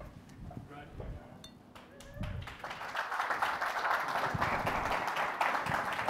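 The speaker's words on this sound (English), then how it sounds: "Round of applause, please." Audience applause at a corporate awards ceremony in New York, rising after a voice to a steady, moderately loud wash of clapping that fills the rest of the clip.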